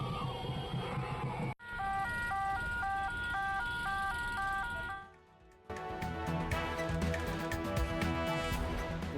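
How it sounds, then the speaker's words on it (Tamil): An ambulance siren wails in a traffic jam, heard through a news broadcast with repeating electronic tones and a brief dropout midway, then traffic noise and a mix of tones returning, loud and close. "போக்குவரத்து நெரிசலில் சிக்கி தவித்த ஆம்புலன்ஸ் வாகனம்"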